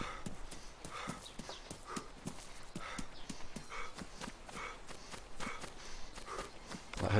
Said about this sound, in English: I heard double footsteps